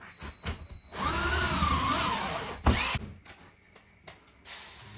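A power drill spins steadily for about two seconds in the middle, loud and close, with shorter bursts of the motor starting and stopping before and after, plus a few clicks and handling knocks.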